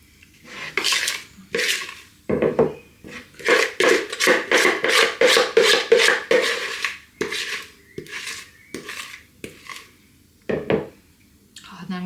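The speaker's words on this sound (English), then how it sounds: "I'm going to start scraping the bowl to fill them all up." A spoon scraping a mixing bowl of blueberry muffin batter, repeated rasping strokes in quick bursts, close and clear, as muffin cases are filled for an air fryer.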